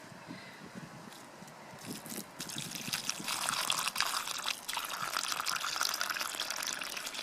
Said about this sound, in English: puddle it full of water, and that is all you need to do